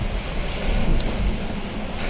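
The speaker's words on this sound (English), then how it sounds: "We've got some big waves and sustained true wind" Wind and waves roar steadily at sea aboard a sailboat, a broad continuous rush with a brief bright splash near the middle, with no voices.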